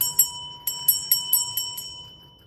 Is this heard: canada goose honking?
no